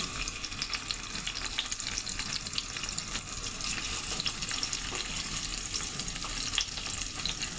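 Onion fries gently in a pan over a low flame, giving a soft, even crackle and fine sizzle with faint stirring, quiet and steady from start to finish with no voices.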